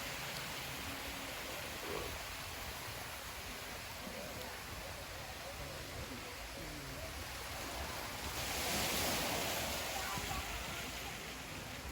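Surf washes onto the beach at a Dominican Republic resort as a steady broad roar, swelling briefly louder near the end, with faint murmur of people in the background.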